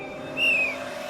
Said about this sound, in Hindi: अरे हॉस्पिटल में सीटी कौन बजा रहा है?